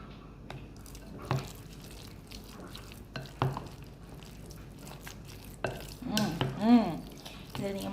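Curd rice mixed with raw garlic by hand or spoon, a soft wet squelching and stirring with intermittent clicks, one louder scraping burst near the end, close and fairly quiet with no talking.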